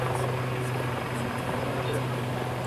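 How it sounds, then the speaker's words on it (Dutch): A Westland Lynx navy helicopter drones steadily at an air base with a low rotor thrum and broad whooshing noise, loud and continuous throughout. "De helikopter gaat weer weg."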